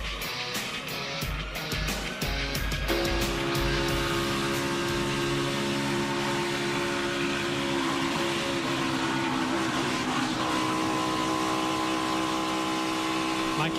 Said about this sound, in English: you can hear that little lift off the throttle pedal by Joey Logano